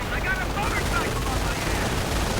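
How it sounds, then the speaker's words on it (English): Dense, continuous machine-gun and rifle fire from a WWII strategy video game battle between US and Wehrmacht forces, loud and unbroken, with a voice talking over it. "Sniper fire taking out a machine gun team."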